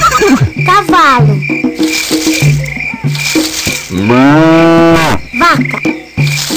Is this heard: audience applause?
no